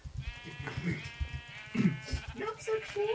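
Sheep bleating in a video game, a wavering tone that rises and falls over a few seconds. Several people talk over it throughout.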